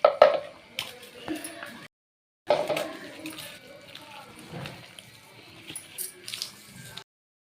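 Rice-washing water is poured into peanut vadai dough and mixed by hand, giving soft splashes and wet squelches in short bursts, with a voice talking over them.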